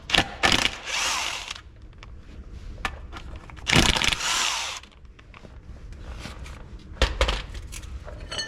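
Bolts come out of a 1960 Pontiac Ventura under a power tool, with loud bursts of rattling whirring, separated by short pauses filled with scattered metallic clicks and clanks nearby.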